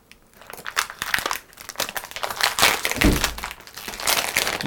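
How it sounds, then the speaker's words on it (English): Scissors snip and crinkle through a tough plastic bag of subcutaneous fluid for a cat, a steady run of close crackling, crumpling cuts with no voices. "So I'm just going to cut my way into the bag here."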